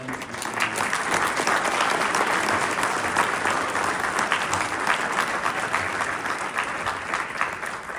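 Steady, dense applause from a large audience honoring the 2025 STEM Teacher of the Year at a county awards ceremony, sustained at even loudness throughout with no voices above it.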